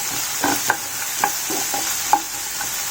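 Frozen corn sautéing in a pan for a vegetable tawa pizza gives a steady close sizzle, broken by several sharp spatula clicks and scrapes. No one speaks.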